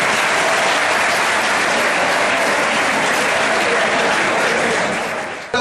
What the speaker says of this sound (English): Claps for you. All of you.